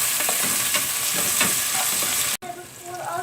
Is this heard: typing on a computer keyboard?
no